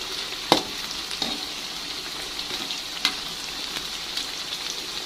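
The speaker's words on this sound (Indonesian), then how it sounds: "ini tempenya langsung saya goreng semuanya aja teman-teman" Tempeh fries in a generous amount of hot oil, a steady close sizzle with a few sharp pops and occasional clinks of stirring, no voices.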